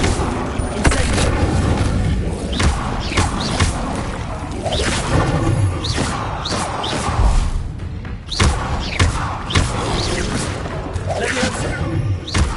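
A burst of conjured fire from the Incendio spell in Hogwarts Legacy, loud booming whooshes and thuds repeating in quick succession over a dense, continuous game soundscape.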